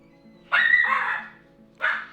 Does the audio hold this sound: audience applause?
no